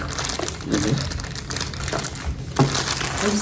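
Plastic packaging around a pair of Nintendo Switch 2 controllers is torn open, giving close crinkling and rustling that runs continuously with a sharper burst near the end, while a voice speaks faintly underneath.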